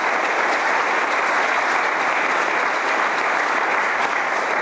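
Sustained, dense applause from a large crowd at a university athletic hall of fame induction dinner, loud and even throughout with no pause, unbroken by speech.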